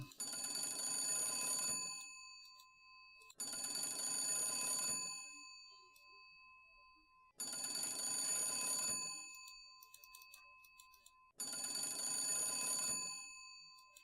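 Telephone in the video game Dracula 2: The Last Sanctuary rings in four long electronic bursts of about two seconds each, loud and close with short silent gaps between them and no voices.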